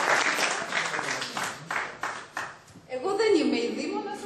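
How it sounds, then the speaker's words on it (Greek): Theatre audience applauding at a Greek music performance, a steady wash of clapping that fades out, followed by a person speaking. "Ένα χειροκρότημα παρακαλώ"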